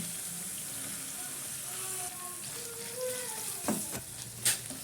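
Sliced onion sizzles in hot oil with ginger, garlic and green chilli, a steady close hiss of frying with light stirring scrapes and a couple of brief clanks near the end.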